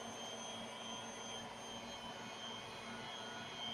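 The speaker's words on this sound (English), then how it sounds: "now we're grinding up the liver and the onions" A meat grinder works through liver and onions with a faint, steady mechanical whir and hum. The sound stays even throughout, with no talk.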